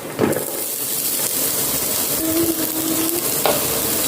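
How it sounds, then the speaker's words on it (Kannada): Finely chopped onions with green chilli fry in a pan and are stirred now and then, giving a steady, close sizzle and hiss with a few scraping touches and no talking. "ಈಗ ಈರುಳ್ಳಿ ಸ್ವಲ್ಪ ಕಲರ್ ಚೇಂಜ್ ಆಗುವವರೆಗೆ ಹುರಿದುಕೊಳ್ಬೇಕು"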